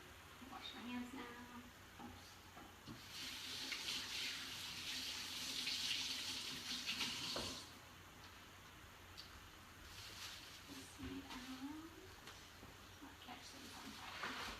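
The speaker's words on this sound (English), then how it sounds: "Wash my hands now." Tap water runs steadily while hands are washed at a kitchen sink, a fairly loud hiss that swells in the middle and continues under intermittent talking.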